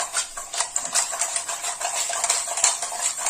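Tarot cards shuffled by hand, a steady run of soft papery riffles and flicks close by, with no voices.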